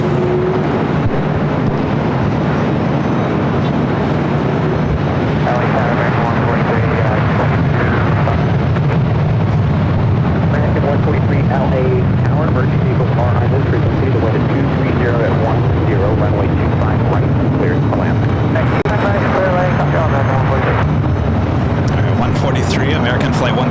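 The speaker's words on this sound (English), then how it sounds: "American Flight 143, the flight heading to Honolulu, an A321neo, taken off not too long ago here from the north side" An Airbus A321neo jet airliner takes off at LAX with a loud, continuous roar and rumble buffeted by wind noise, and voices talk over it throughout.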